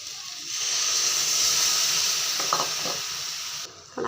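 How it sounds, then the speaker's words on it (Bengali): A little water goes into a hot pan of fried spice paste and lai shak greens. It sets off a loud, close burst of hissing steam and sizzle that slowly fades, with a few utensil clinks near the end. "ভালো করে ভাজা হয়ে গেছে, এখন অল্প একটু জলটা দিয়ে দেব"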